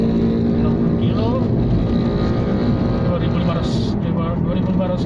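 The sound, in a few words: Nissan Almera car engine driving in fourth gear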